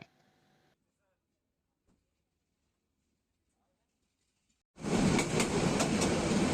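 At Hemnagar railway station in Tangail, Bangladesh, a faint voice-like sound opens a long near-silent stretch, then a train's loud, close, roaring rumble cuts in suddenly and fills the last couple of seconds.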